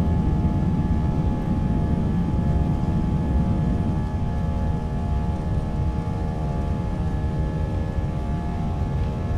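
Airliner jet engines hold at takeoff thrust for departure from Valdez, Alaska, producing a loud, continuous, steady roar with a tonal whine, heard from inside the aircraft without a break.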